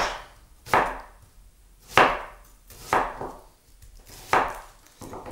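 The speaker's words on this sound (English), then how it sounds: "and slice it. I'm going to slice it this way" A knife cuts through root vegetables on a board, slicing them into medium rounds for a pizza: four crisp, close chopping strokes about a second apart, each with a short tail.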